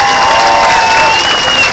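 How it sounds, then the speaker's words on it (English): A San Francisco crowd at a March Against Monsanto rally breaks into loud, dense, sustained applause with some cheering mixed in. "if we can give her a round of applause"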